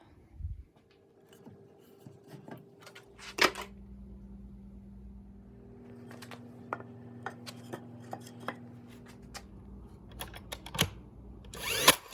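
Power saw cutting 45-degree corners into eight pallet boards for a raised garden planter, heard as a steady motor hum with a handful of sharp cutting bursts and knocks spread across the clip, no talking.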